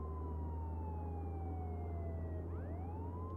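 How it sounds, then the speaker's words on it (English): A police car siren in the Contraband Police game wails with a slowly falling tone that then sweeps back up, heard over a loud, constant low engine rumble of a prisoner transport vehicle. "we'll go ahead and turn on the sirens as well"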